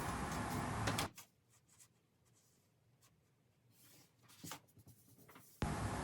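A pencil draws dress pattern lines along a curved ruler on paper, a soft scratchy scraping heard close up in short strokes between louder rustling of paper.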